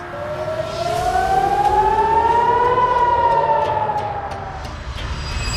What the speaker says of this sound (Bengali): সব জায়গা থেকেই শোনা যাচ্ছিল একটি সাইরেনের শব্দ